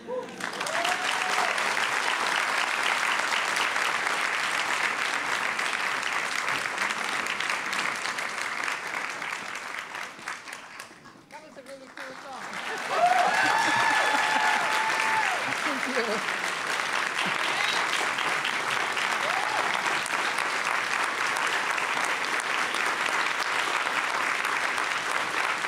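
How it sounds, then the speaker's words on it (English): A large audience at a lecture applauds warmly and continuously, a dense wash of clapping that dips briefly near the middle before swelling again, with scattered cheers and a voice faintly audible under it. "They don't clap like this at Emory."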